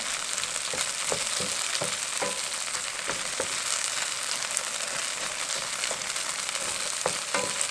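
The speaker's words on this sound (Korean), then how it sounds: "그렇지 않으면 더 깊은 팬에다가 볶을 수 있는데" Food stir-fries in an oiled frying pan, a steady dense sizzle running throughout with scattered clicks and scrapes as it is stirred, close and loud with no talk.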